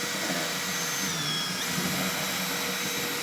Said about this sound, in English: I'm going to take a 4-inch hole saw and we're going to run a hole right through there.